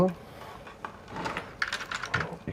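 Rapid clicking of computer keyboard keys, a steady burst of keystrokes close to the microphone that picks up and grows busier in the second half, with a brief voice near the start.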